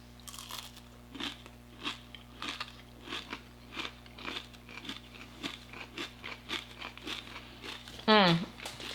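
Someone bites into a keto chocolate treat made with crunchy protein cereal, with repeated close, crisp crunches at a steady chewing rhythm and a brief vocal sound near the end.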